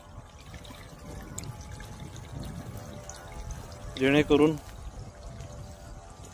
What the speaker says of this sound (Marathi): त्या इंजेक्टर पंपाला विहिरीमध्ये सोडून साधारणतः 20 फुटावरून पाण्याची डिलिव्हरी काढलेली आहे